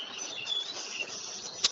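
A sonoluminescence experiment gives off a steady high hiss with faint thin squeaky tones and one sharp brief click near the end, fairly quiet and without any voices.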